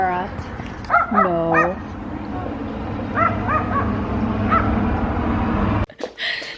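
A small terrier-type dog barks and whimpers in short bursts of yips, fairly close, with a person's voice speaking at one point and a sharp handling bump near the end.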